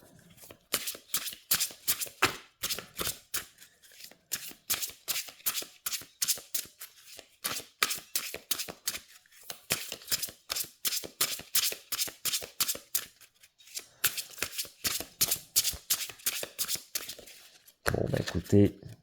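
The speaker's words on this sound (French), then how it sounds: "les cartes se mélangent très très bien. Elles glissent super bien entre elles." Oracle cards are shuffled over and over close by, sharp rhythmic riffles and slaps in repeated bursts separated by brief pauses.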